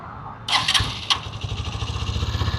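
A Hero Xtreme 160R 4V motorcycle engine cranks briefly and fires, settling quickly into a steady, pulsing idle heard close up with no talking.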